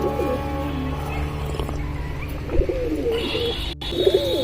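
Pigeons coo softly in low, rolling calls, several birds close by amid a steady background hum.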